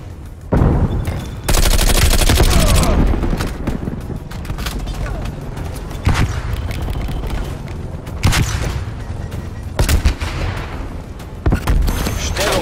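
Grenade blast and gunfire in Call of Duty Cold War multiplayer: a loud close explosion, automatic weapon bursts and scattered single shots, with brief radio-style voice callouts between the shots.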